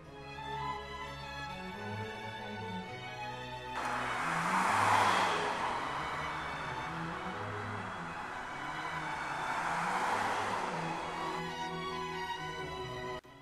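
Car traffic on Ostertorstraße, a shopping street, heard from the roadside while crossing. Two vehicles pass nearby one after another, each a swelling rush of tire and engine noise that fades out, with quieter street ambience between them.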